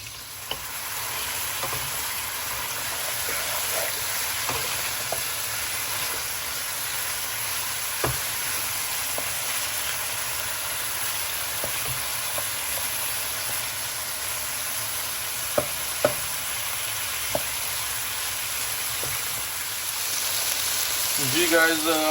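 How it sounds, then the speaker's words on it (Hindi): Chicken pieces fry for a Lahori street-style chicken soup, giving a long, steady hissing sizzle with occasional sharp clicks of a spoon stirring against the pan. "ये इसको तकरीबन 5-6 मिनट के लिए भूनते हैं"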